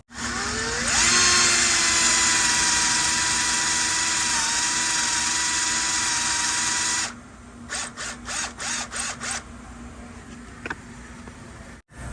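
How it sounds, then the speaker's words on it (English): A power drill boring through the crankshaft and supercharger pulley of a C5 Corvette using a pin-kit drill bit, a loud steady whine for about seven seconds, then several short stuttering bursts as the trigger is feathered. "It totally ate through the crank and the pulley, no problem."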